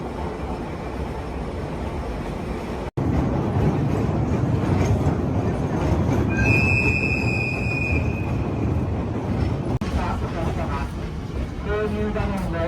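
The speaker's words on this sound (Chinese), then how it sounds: "过了神户站，列车进入一段颇长的隧道。" Watarase Keikoku Railway Torokko sightseeing train runs through a long tunnel, giving a steady loud rumble and roar with an abrupt jump in level as it enters and a brief high tonal squeal partway through.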